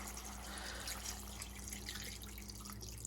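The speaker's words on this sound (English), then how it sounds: "we're going to add in some water" Water poured into a pan to make a sauce for bistek, a steady liquid pour and trickle at close range with a low steady hum underneath and no talking.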